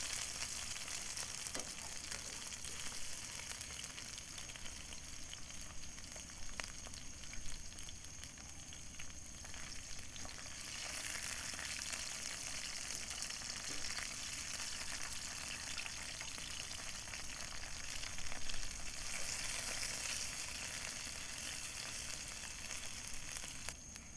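Sausage, peppers and onions fry in a pan for a camping meal, giving a steady close sizzle with occasional scraping and stirring and no voices.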